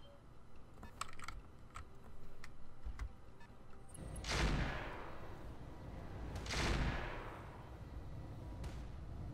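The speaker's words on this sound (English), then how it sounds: "Okay, a couple of auto cannons." Autocannon fire in the Roguetech mech combat video game: two heavy, booming bursts a couple of seconds apart, preceded by faint clicks and scattered ticks against a low background rumble.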